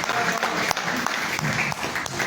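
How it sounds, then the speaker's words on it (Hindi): Audience applause at a Hindi-Urdu poetry gathering, a dense steady patter of many hands clapping with a few sharper claps standing out, close and loud, with faint voices mixed in. "थोड़ी सी तालियां एक बार बजा दीजिए हमारे लिए।"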